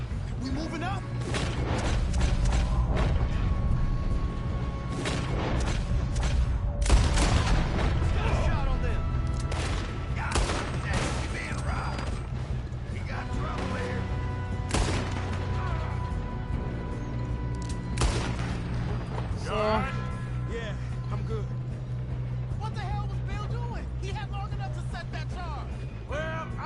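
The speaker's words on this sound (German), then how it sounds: "Hat da gerade einer auf mich geschossen?" Gunfire crackles during a Red Dead Redemption 2 shootout as scattered sharp shots and thuds over low rumbling ambience, with talking heard throughout.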